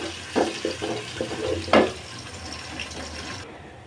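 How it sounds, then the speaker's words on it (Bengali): Chopped onion drops into hot oil in a home kitchen pan, giving a steady close sizzle broken by a few sharp bursts of spattering and stirring. "এখন আমি রান্নার জন্য তেল দিয়ে দিচ্ছি। এখন দিয়ে দিলাম পেঁয়াজ কুচি।"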